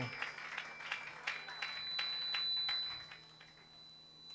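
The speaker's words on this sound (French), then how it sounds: "Oh, acclamons pour ce maestro. To betela ba maestro na maboko." An audience claps rhythmically in steady, evenly spaced beats to acclaim a maestro at a concert, with voices murmuring underneath.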